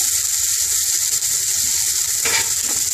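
Chopped onion with green and red pepper fries in a hot pan, giving a steady bright sizzle throughout, close and loud, with a brief stirring scrape just past the midpoint.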